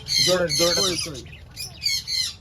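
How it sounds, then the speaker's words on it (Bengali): Lovebirds in a home aviary squawk in harsh, shrill bursts close to the recorder, one after another, forming a noisy flock chatter with brief pauses between clusters. "এগুলো হচ্ছে সব লাভ বার্ড, ওই যে কামড় দেবে বিরাট"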